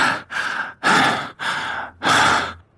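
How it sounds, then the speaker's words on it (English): A man breathing close in an earpiece as an audiobook sound effect: heavy, airy breaths in a slow rhythm of about five long exhales with short pauses between, loud and intimate, no speech. "now she could hear him breathing in her ear"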